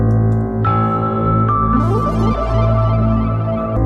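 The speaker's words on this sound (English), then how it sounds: "Effects. Kind of like these bells." Bell effects layered into a sample-based music beat ring over sustained tonal chords, with bright bell strikes entering and shimmering above a dense, loud, continuous musical bed.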